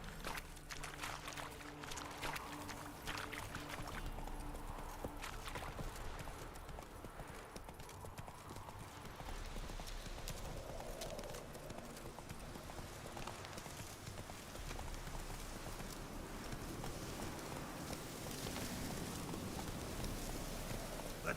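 Horse Roach's hooves in The Witcher video game, a steady clip-clop of hoofbeats on the ground throughout, moderately close, with faint ambient rain-like noise underneath.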